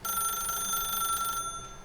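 A telephone in The Stanley Parable rings continuously, a bright sustained electronic bell tone that carries on loudly before cutting off near the end, with no one talking over it.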